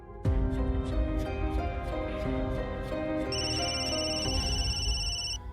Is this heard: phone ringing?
yes